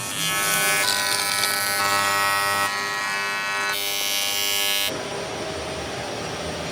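Aluminium being welded gives off a loud, close, harsh electric buzz with steady tonal hum, shifting pitch in several abrupt steps before settling into a rougher hiss.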